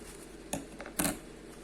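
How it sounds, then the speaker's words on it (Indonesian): Scissors cut through a multi-layer KN95 face mask in a few short, crisp snips, close up and with no talking. "Kita gunting ya."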